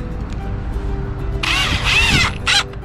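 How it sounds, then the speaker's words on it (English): An impact driver sends 30mm screws into wood for an allotment gate, giving a loud, close, rattling whine in two short bursts over a low background hum. "I've got my impact driver, and we've got 30mm screws going in here."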